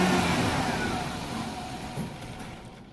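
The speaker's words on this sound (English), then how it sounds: "my buddy's going to start the truck and let it run out of fuel." A 1997 Ford Ranger pickup with a 4.0 engine runs close by in a steady, fairly loud drone that slowly fades as the engine starves of fuel with its fuel filter removed.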